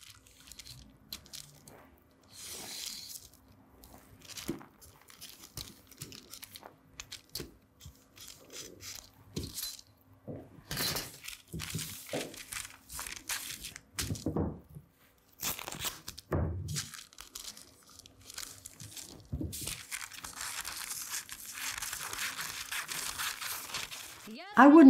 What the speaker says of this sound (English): And I'm cutting flares from the top.